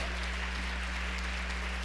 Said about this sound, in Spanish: Le regalamos un fuerte aplauso al Rey de Reyes y Señor de Señores.